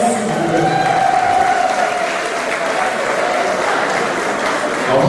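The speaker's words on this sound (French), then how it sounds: "Applaudissez pour Olga, s'il vous plaît." Loud, dense applause from wedding guests for the bride at a Congolese wedding celebration, a continuous roar of many hands clapping at once, steady throughout with crowd murmur and faint cheering mixed in.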